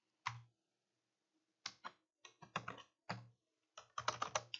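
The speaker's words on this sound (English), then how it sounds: "in here, I'm simply going to type" Bursts of typing on a computer keyboard come in short clusters of crisp key clicks separated by pauses, close and clear against a silent background.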